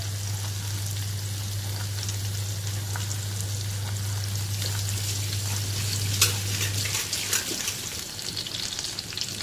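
Stuffed okra (bhindi) frying in an open, uncovered pan, a steady close sizzle with crackling pops throughout, no voices, with a low hum fading out near the end.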